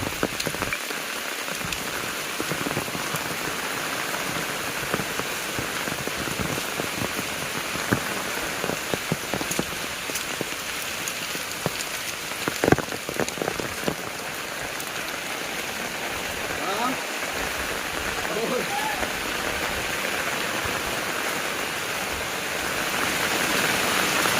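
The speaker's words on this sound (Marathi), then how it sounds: "आज जरा कमी आहे म्हणजे येऊन जाऊन आहे पाऊस" Steady rain pours down continuously, a dense hiss of drops hitting surfaces, with occasional louder splatters and faint background voices.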